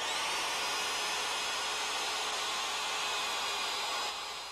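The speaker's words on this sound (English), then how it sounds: "now that we've got all our holes drilled" A steady, loud high-pitched whine of a power drill drilling holes for a deck ledger, running continuously, close up, easing off slightly at the very end.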